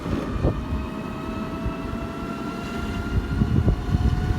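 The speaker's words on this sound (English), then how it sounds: "Rob, just testing the Sinclair C5, going very well" A Sinclair C5 electric tricycle runs at full throttle, a steady electric motor whine with constant tonal hum over rumbling road and wind noise, with no talking.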